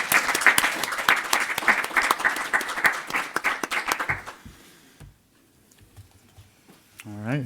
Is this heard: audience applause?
yes